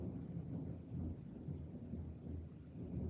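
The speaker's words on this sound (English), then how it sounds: "Lots of thunder." Deep thunder rolls and rumbles continuously during a rainy thunderstorm, a loud low-pitched roar with a steady wash of rain, heard from inside an attic with no talking.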